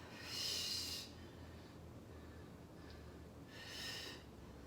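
Heavy exhales through the mouth during a transverse abdominal core exercise, two breathy bursts about three seconds apart, close but fairly soft, with no talking.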